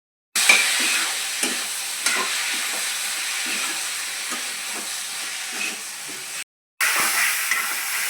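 Rice and dal fry and get stirred in a pan, a steady close sizzle broken by occasional scraping stir strokes, with a short pause near the end before the sizzle returns.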